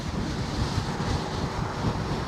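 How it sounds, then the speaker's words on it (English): Strong wind buffets the microphone while riding a KingSong 18L electric unicycle into a headwind, a loud, steady roaring rush with constant low rumble and no talk. "this officially is some of the windiest conditions I've ever ridden in."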